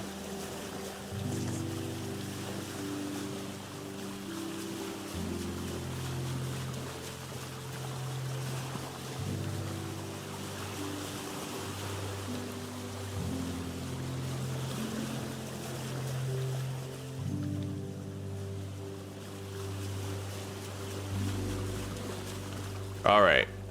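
A boat sailing on water in Vintage Story, a game, with a steady low droning hum and a soft wash of water and wind. The sound holds continuously at moderate loudness, with a brief louder knock at the very end.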